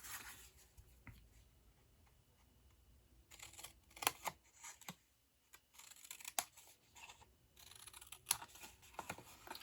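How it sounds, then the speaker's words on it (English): Metal snips cut through cardstock for a Stampin' Up! party favor box, giving a few sharp, crisp snipping clicks spaced irregularly over a quiet background. "I'm going to use my snips"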